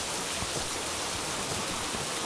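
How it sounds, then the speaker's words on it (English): Steady rain falls around a house in the Phasmophobia video game, an even, continuous broadband hiss with no voices over it. "it's a rainy day here at the street house"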